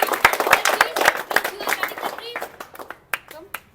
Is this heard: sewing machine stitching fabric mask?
no